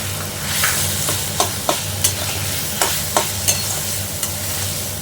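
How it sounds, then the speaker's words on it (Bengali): Mashed jackfruit seeds are worked into spices and oil in a hot pan, with a low steady sizzle under a series of sharp, irregular spatula scrapes and taps close by. "এবার এটা ভালো করে মশলার সাথে মেশাতে হবে।"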